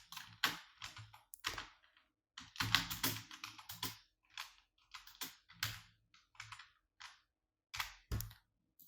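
Irregular bursts of close, crisp clicks from typing on a computer keyboard, quick clusters of keystrokes separated by short pauses, with no voices.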